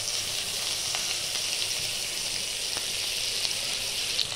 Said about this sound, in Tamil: கடாயை சூடு பண்ணியாச்சு. இப்போ கொஞ்சம் பட்டர் போட்டுக்கலாம்.